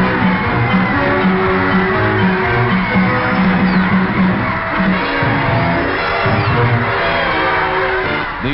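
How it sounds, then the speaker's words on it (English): Dense crowd of wildly cheering throngs lining Pennsylvania Avenue for General Eisenhower's parade, a continuous roar of shouts and whoops that stays loud and steady throughout, with no pauses. "moves on down Pennsylvania Avenue past the wildly cheering throngs"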